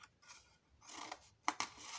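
Scissors snipping the corners of paper for a homemade scrapbook album, a few soft slicing strokes followed by two crisp, close snips in quick succession.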